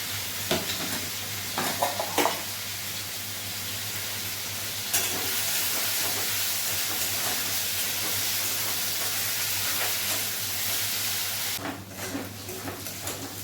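Tomato, cumin and potato sizzle and fry in a pan, a steady loud hiss with stirring clatter near the start and a louder burst near the end, no talk.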